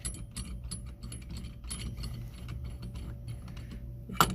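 A ratchet wrench clicks steadily while loosening the steering wheel nut on a classic car, a close, rapid run of small mechanical ticks with a sharper knock near the end.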